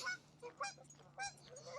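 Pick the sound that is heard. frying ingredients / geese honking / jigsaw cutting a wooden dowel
geese honking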